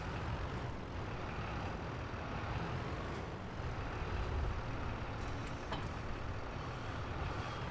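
Steady low engine rumble of a truck in a farming simulator game set in the European countryside as it puts a trailer away, with faint reversing-beep-like tones and a brief air-brake hiss, continuous and moderately near.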